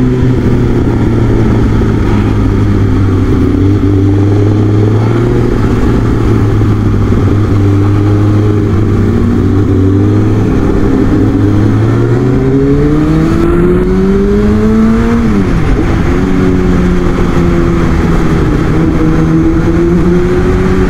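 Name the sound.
big motorcycle engine revving while riding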